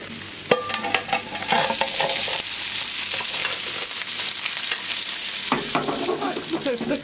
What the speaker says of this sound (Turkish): Öbür tarafını da kızartacağım